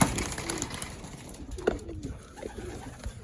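Young pigeons coo inside a loft, soft, low, repeated coos close by at modest volume, with faint rustling and shuffling in the background.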